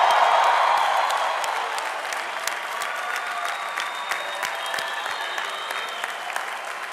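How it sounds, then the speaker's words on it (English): A standing crowd at a graduate commencement ceremony gives the new graduates a huge round of applause, sustained dense clapping with scattered sharp claps and a faint whoop, steady throughout. "Please rise and give our newest graduates a huge round of applause."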